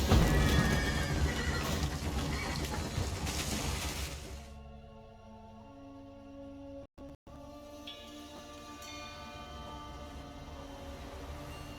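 Horses in The Witcher 3 video game neigh and whinny loudly amid a dense, crashing burst of game noise with clopping hooves, then the din drops away to quieter ambient tones and faint music for the rest of the stretch.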